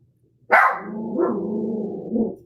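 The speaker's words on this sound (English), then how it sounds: "it's a bit irritating to try and talk over the sound of that little puppy" A little puppy barks once sharply, then lets out a long, drawn-out whining yelp that rises again near the end, close and fairly loud with no talk.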